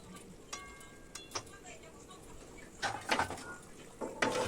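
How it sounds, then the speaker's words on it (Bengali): Fried chickpea-lentil fritters and green chillies stirred into a simmering potato-papaya gravy, with soft spoon scrapes and a faint bubbling bed, growing into louder clatter and stirring bursts toward the end. "তারপর কয়েকটি কাঁচা লঙ্কা দিয়ে ভালো করে একটু নেড়ে চেড়ে নিতে হবে"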